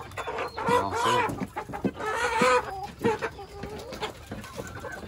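Backyard chickens clucking and calling in a short series of bursts, fairly close, with brief gaps between calls and no other sounds competing.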